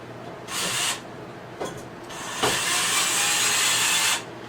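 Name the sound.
putting in screws and bolts on patio set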